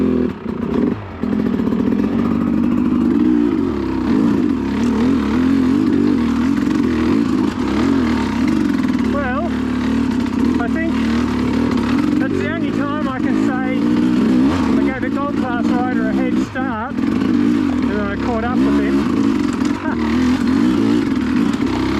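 Enduro motorcycle wheelieing through a deep rut at the Ironstone Extreme Enduro, its engine revving loud and close with a continuous throaty drone and rising bursts of throttle, plus occasional clatter from the bike.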